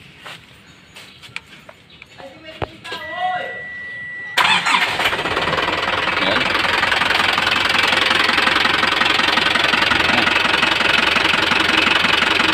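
An overhauled Isuzu engine cranks and catches after a few seconds of quiet clicks, then runs steadily and loudly with a rough, knocking idle throughout, close to the listener.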